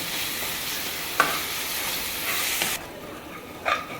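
Tomatoes frying in a tadka in a pan for aloo matar sabzi give a steady close hissing sizzle, broken by a few sharp scraping stirs of the spoon, then a quieter sizzle near the end.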